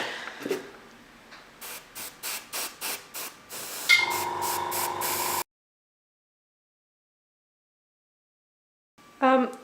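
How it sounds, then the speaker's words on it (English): A spray bottle lightly misting dusted areas of a scale model during weathering: a quick series of short, rhythmic hissing spritzes, then a longer steady spray. Silence follows, then a faint return of sound. "we're just going to literally spray over all the areas we've dusted. Very light spray, just to make it moist."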